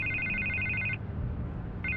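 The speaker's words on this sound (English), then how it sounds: "I can't get the phone to stop ringing." Telephone ringing in the video game Batman: The Telltale Series, a bright electronic trill that sounds for about a second, stops briefly, then starts again over a low background hum.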